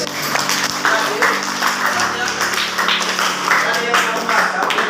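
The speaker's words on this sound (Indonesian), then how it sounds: "Tepuk tangan kalau gitu." Students in a classroom clap together, a loud, close run of rhythmic hand claps with a steady tone beneath, continuing throughout.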